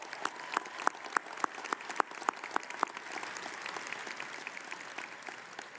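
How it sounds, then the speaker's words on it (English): Sparse, faint applause from a college commencement crowd honoring families of graduates, with a few distinct sharp claps up front blending into a soft, distant patter. "Let's give them a round of applause, graduates."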